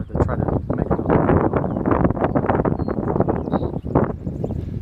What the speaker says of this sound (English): it's very windy, there's got some wind coming off the lake over here